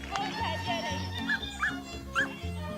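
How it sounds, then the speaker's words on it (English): A Pumi herding dog yips, barks and whimpers in quick excited bursts while rounding up sheep, close by and over a low background rumble. "Pumis make good herding dogs because they can run extremely fast"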